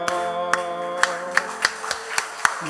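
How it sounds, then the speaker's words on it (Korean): Hands clap in a church service with distinct, separate beats at a moderate, slightly uneven pace, heard over a sustained tonal background such as an organ or keyboard. "다시 한번 박수해 주시고요"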